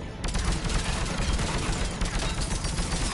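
Dense, continuous volley of gunfire in a firefight from the video game Mass Effect 3 on Omega, loud overlapping rapid shots with no pauses.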